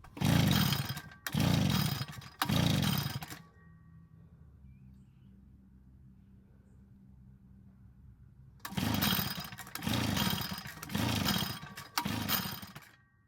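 A vintage Echo leaf blower with a poorly working carburetor is pull-started: three loud close bursts of engine noise, a quiet pause, then four more bursts as it briefly catches and dies.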